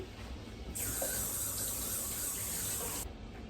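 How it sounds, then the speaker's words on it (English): A kitchen tap gushing over hands being rinsed, a steady hissing rush of water that starts abruptly and cuts off after about two seconds, close and alone. "So now, rinse my hands off now."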